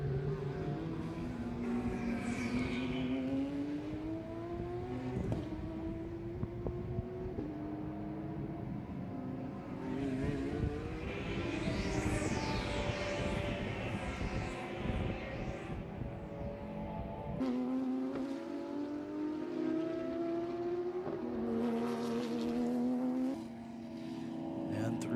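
Lamborghini and Mazda Miata race cars run on a track at the FARA Memorial 300 event, their engines droning and shifting pitch as they rise and fall in revs, with a commentator talking over them throughout.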